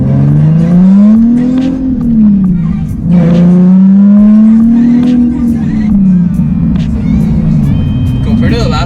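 A car with a very loud aftermarket exhaust revs repeatedly, the deep droning note rising and falling in long swells, close and dominant, with people talking and reacting over it.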